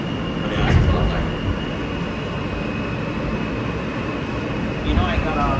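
A New York subway R train running on the Q line between 14th Street–Union Square and 96th Street rumbles steadily from inside the car, with a constant electrical whine and brief clunks.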